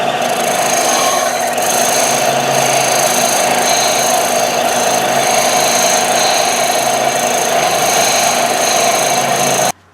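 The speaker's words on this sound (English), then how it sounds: "I'm going to sand it all the way down till it fits nice and snug in there." A power sander grinds steadily against a wooden hatchet handle during an old tool restoration, a loud continuous abrasive whir with a high tonal whine held for the full length and cutting off abruptly at the end.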